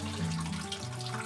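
Spring water runs steadily from a tap, a soft continuous pour, faint and alone.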